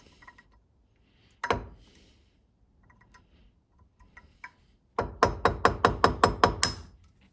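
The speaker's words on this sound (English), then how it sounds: "I'm just going to take an awl, I'm going to put it right on the center, and then I'm just going to hit it with a screwdriver" A screwdriver strikes an awl to drive out a seized part on a Polaris snowmobile: one sharp knock, a few light taps, then a rapid run of about eight loud metallic hammering blows close by.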